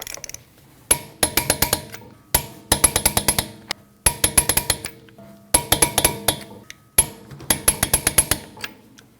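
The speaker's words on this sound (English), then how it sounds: "You want to torque your 5 lug nuts down to 100 foot-pounds in a star pattern" Lug nuts on the rear wheel of a 2013-2019 Ford Escape are tightened with a torque wrench, with six close bursts of rapid, loud metallic ratcheting clicks separated by short pauses.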